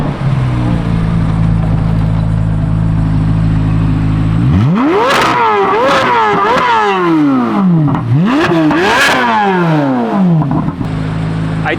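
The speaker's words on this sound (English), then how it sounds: "So let's hear it. Give it some revs." A car engine idles loudly in park with its exhaust valves open, then a burst of sharp, repeated revs rises and falls several times with crackling exhaust before settling back to a steady, rumbling idle.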